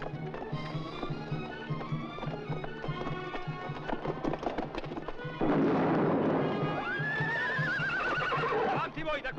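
Horses gallop through a battle scene in a 1961 adventure film, with dense clip-clop of hooves under shouted voices, then a loud rush of noise and a long whinny near the end.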